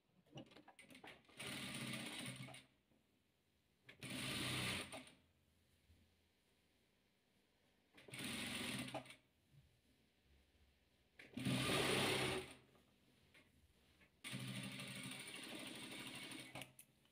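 A sewing machine stitches the final row of a 50 by 50 patchwork quilt onto the rest. The motor runs in five separate bursts of about one to two seconds, close by and steady, with quiet gaps between them and no talking.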